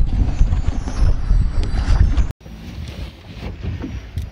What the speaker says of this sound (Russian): Очень такая сильная волна, ветер. В камеру может быть маленько будет задувать